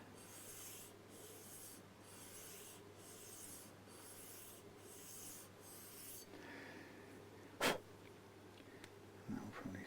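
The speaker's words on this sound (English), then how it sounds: "I'll just do a little bit of sanding on this back side" Sandpaper rasps by hand across the wooden body of a Fender Telecaster in about seven even back-and-forth strokes, followed by a sudden sharp sneeze and a couple of faint knocks.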